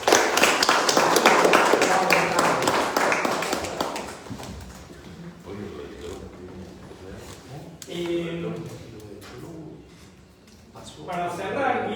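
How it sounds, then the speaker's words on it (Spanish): Audience applause at an evening art gathering, a dense burst of clapping that fades out after a few seconds and gives way to talk and scattered noise. "Le pedimos a Armando con un fuerte aplauso."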